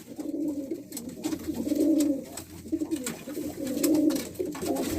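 Soft, close cooing from a breeder pair of pigeons, repeated rolling coos in a steady rhythm, with faint background clicks and rustling.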